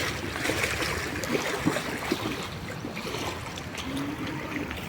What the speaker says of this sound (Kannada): ನೋಡಿ ಯಾವ ರೀತಿ ಹರಿಯುತ್ತಿದೆ ನೀರು.